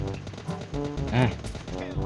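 Gunfire in the mobile battle-royale game PUBG Mobile: a few short game shots crack out under continuous loud talking from a player.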